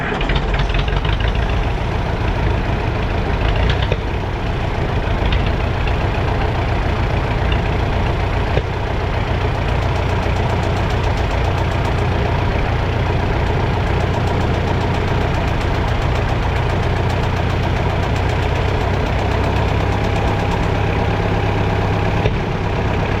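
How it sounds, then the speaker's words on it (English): A recently bought G707 engine runs steadily at close range, a loud continuous idle with a low rumble and rhythmic knocking clatter, with no speech over it. "I'll fire it up and let you guys take a listen"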